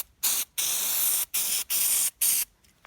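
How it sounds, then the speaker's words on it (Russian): A spray can of Hado oil lubricant squirting onto a sponge for treating car rubber seals on a Lada Kalina: five short, loud, close hissing bursts separated by brief silences. "Вот брызгаю на вот такую вот губку."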